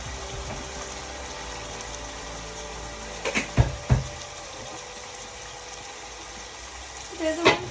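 An electric kettle heats water with a steady broadband hiss and low rumble throughout, close by, with a few brief clinks and knocks.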